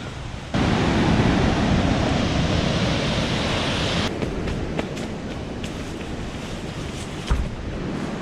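Water rushes hard at Kalu waterfall in a loud, steady roar. It starts abruptly and continues without a break, with a few faint clicks near the end and no talking.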